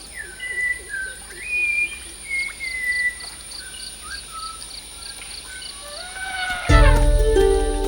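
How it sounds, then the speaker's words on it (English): Clear, rising and falling whistles of a Malabar whistling thrush ring out in the morning over a steady insect drone in Periyar Tiger Reserve, then a sudden louder rumble enters near the end. "Our morning alarm is a naughty schoolboy whistle of the Malabar whistling"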